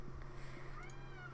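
A cat in Minecraft gives a single faint, rising meow over a quiet, steady background hum.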